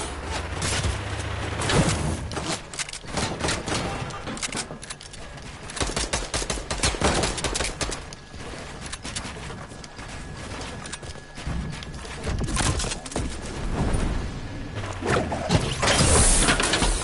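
Video game gunfire rattles in dense, rapid bursts of shots, loud and close, with barely a pause across the stretch and sharper cracks standing out near the start and end.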